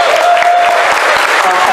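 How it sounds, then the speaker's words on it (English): Dense, steady clapping fills a convention opening ceremony as the audience applauds someone in the room, loud and continuous throughout. "Give him a round of applause."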